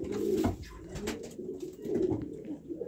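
Soft, repeated pigeon coos rising and falling close by in a loft, several overlapping murmurs with no talking.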